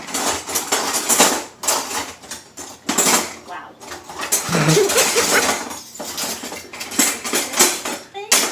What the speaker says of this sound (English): That's actually a pastry blender, but it's quite a robust one, isn't it?